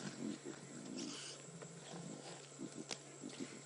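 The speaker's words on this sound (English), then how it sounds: "Getting a deep growl from Mom there." A lioness growls low and rumbling over a buffalo carcass in the wild, faint and distant, a few short guttural bursts amid quiet outdoor ambience.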